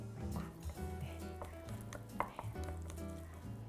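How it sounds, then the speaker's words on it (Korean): Seasoned meat stir-fried in a pan, a soft continuous sizzle with occasional light scraping and clinks of a utensil, quiet and close with no talking. "고기를 양념을 해서 볶으면"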